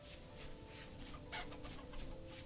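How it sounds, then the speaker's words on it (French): A chicken clucks in the survival video game Vintage Story, a few soft repeated clucks over a faint steady ambient background, quiet and somewhat distant. "On entend une poule aussi."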